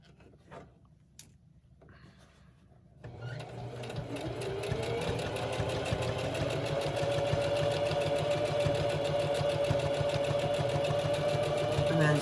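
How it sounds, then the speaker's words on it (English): A sewing machine runs steadily on a fabric face mask with a flannel layer and a pipe cleaner nose wire, starting after a few seconds of quiet handling and humming continuously, close and loud, with brief reverse-stitch changes. "So I'll throw in a few stitches. Once I get to the flannel, I'm going to reverse it real quick."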